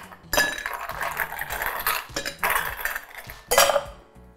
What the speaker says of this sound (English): Get some ice in our big tin